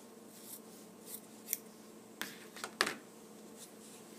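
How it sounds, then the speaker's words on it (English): Scissors cutting fabric folded over to keep a straight edge while finishing edges in sewing; a few quiet, separate snips and crisp blade closes with gaps of quiet between, no talking. "fold it over so that I keep the cut nice and straight, and then I will cut straight up."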